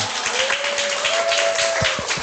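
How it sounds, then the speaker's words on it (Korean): Applause from a group meeting audience, a dense, steady wash of clapping held at even loudness throughout, with a faint sustained tone running across it. "박수 한번 드릴게요"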